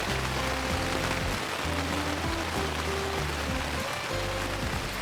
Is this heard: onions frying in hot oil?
no